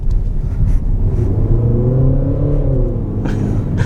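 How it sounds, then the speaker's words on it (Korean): A Peugeot 5008 engine rumbles and revs up with a rising, throaty tone in sport mode, its sound played through cabin speakers, then settles back, heard from inside the cabin. "엔진 음색이 이렇게 튜닝된 이 스피커에서 나오는 소리가 들립니다"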